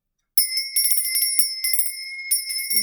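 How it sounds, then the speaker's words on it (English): A small bright bell is rung repeatedly in quick, ringing strikes during an energy cleansing, the clear metallic tones sounding close and alone after a moment of silence. "Let me do the bell first."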